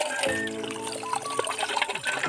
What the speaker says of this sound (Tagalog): Sarap ng tubig dito guys. Bukal oh.